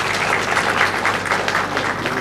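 Applause from the audience at the 12th LREB Summit: a short burst of many hands clapping at once, sustained and fairly loud, with no voices over it.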